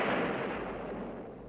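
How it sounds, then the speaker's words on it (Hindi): Cannon artillery fire as a sound effect, a dense, sustained roaring rumble of heavy guns, loud and continuous with no pauses, with no voices over it. "सवेरा होते ही झांसी की तोपें फिर गरजने लगी।"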